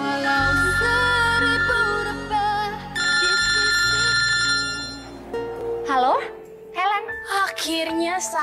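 A phone ringtone goes unanswered, its melodic electronic tones repeating over a bed of music and voices.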